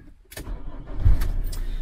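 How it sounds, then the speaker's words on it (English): A motorhome engine cranks and catches, the starter whirring briefly before the motor rumbles into a steady low idle, heard close with no talking. "So what I'm going to do is I'm going to start the engine up."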